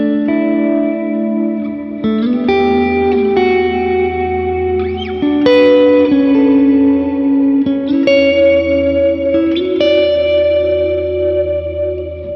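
An electric guitar played through a Cathedra reverb pedal with heavy reverb: sustained chords and single notes ring out in long, washy tails, changing every couple of seconds and blending into a dense shimmering wash with no talking.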